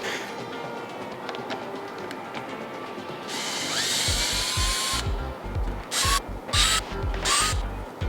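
Four T20 Torx screws backed out of a Ford Bronco overhead panel with a driver, rapid ratcheting clicks in bursts, close and distinct over a faint background hum.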